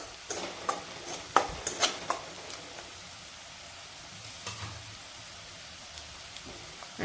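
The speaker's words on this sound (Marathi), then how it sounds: "कांदा आपण लालसर होईपर्यंत परतून घेऊ।" Chopped onion frying in a pan until reddish, with a faint background sizzle and a cluster of sharp spoon-against-pan stirring clicks early on, then quieter.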